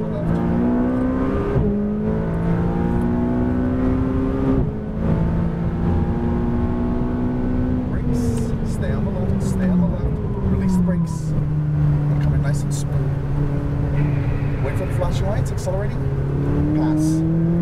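A McLaren 570S accelerates hard during a hot lap on a track, its engine note climbing steadily and loud from inside the cabin, while a driving coach talks over it throughout.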